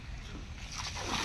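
Hands being rinsed in water outdoors at an eco park, a brief close splash and slosh rising toward the end against a noisy open-air background.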